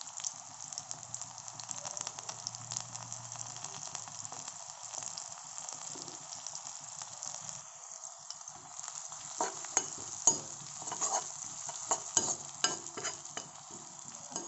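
Onions frying with turmeric in a pan for a fish dish, a steady sizzle with stirring scrapes and clicks that grow busier toward the end, close and alone.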